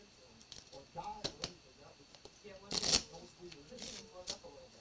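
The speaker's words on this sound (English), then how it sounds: "we're going to shuffle these again" Playing cards are shuffled by hand in short riffling bursts, close and crisp, while someone talks over them.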